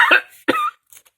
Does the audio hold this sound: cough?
yes